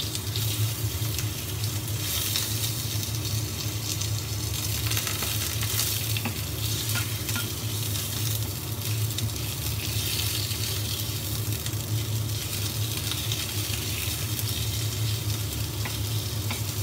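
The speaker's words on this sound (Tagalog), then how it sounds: "Lagay ko na ang ginger at iprito ng konti." Steady, dense sizzling of ginger frying in hot oil in a pan, continuous and close, with no talking.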